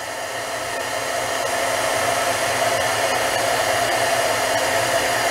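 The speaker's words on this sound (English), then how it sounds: "use your embossing tool, and you're going to heat that till it starts curling" An embossing heat tool blows hot air onto inked, stamped paper for a faux leather craft, a steady close whooshing fan roar that holds unbroken and alone throughout.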